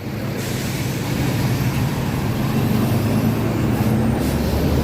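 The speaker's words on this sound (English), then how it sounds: "And I don't want this truck to hit me." A truck on a Manhattan street rumbles loud and close, its engine drone steady and broadband throughout, with a brief hiss like an air brake near the start.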